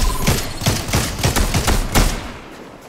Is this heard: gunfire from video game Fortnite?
yes